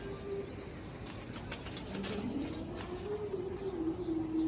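Pigeons coo in a low, repeated warble, with some wing flapping over a steady outdoor hiss.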